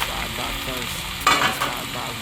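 Garlic and ginger paste sizzling in a hot pan, a steady close crackle with a sharp burst of louder spitting as it is stirred partway through, no voices.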